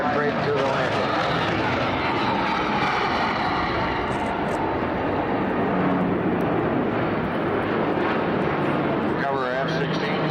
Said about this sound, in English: you'll see the three C-130s coming back in again for their flyby and break to the landing